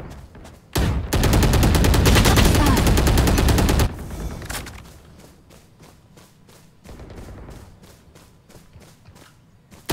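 Video game gunfire at a practice range: a sustained loud burst of rapid automatic shots for about three seconds, followed by quieter scattered single shots and thumps.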